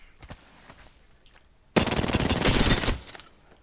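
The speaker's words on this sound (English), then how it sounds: "So imagine this, you're in the game, you're shooting." Automatic gunfire in Apex Legends, a few faint shots followed by a loud sustained burst of rapid rounds lasting over a second, close and dominant with no talking.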